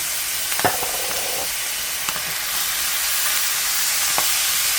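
Browned meat with taco seasoning and canned Rotel tomatoes being stirred in a hot pan, giving steady close sizzling under a few scraping strokes of the spoon, with no talking.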